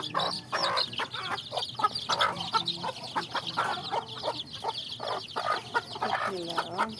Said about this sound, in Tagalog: Andito yung mga sisiyo ng aking Chinese people. Ang dami nila.